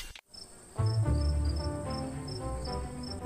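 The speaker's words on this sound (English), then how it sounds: "Night fell. Crickets chirped." Crickets chirp at night in steady, repeated high pulses against a quiet background, with a soft low rumble underneath.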